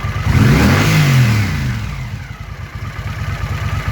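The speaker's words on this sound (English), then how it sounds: "I'm going to hit the throttle." A warm car engine with Sloan CX carburetors, idling at 1100 rpm, revs sharply up and back down, then settles into a loud, close, rhythmic idle.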